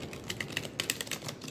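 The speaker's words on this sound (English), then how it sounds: "as I shuffle the cards" A deck of tarot cards being shuffled: quiet, rapid flicking and riffling clicks in uneven bursts, close by, with no voices.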